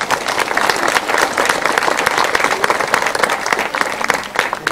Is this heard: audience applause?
yes